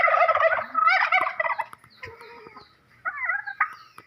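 Turkeys gobbling loudly and close by, several overlapping rattling calls with a busy, chattering flock around them.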